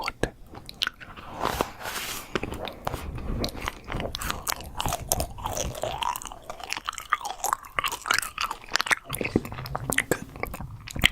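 Soft, wet chewing and crunchy bites of sliced cotton candy continue close up for several seconds, irregular and quiet, with faint mouth noises throughout.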